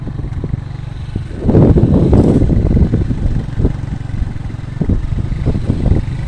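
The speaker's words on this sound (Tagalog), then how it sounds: "damuhan na pero tumatakbo pa rin yung motor." A motorcycle engine runs steadily as the bike rides along a grassy path, loud and close, with a rough, clattering drone that swells for a moment before settling.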